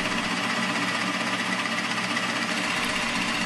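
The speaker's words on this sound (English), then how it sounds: "we're going to drill a through hole to see how clean it is on the other side" A drill bit boring a through hole in a piece of wood backed by a scrap board, a steady loud whirring buzz that holds unbroken for several seconds and ends with a small bump.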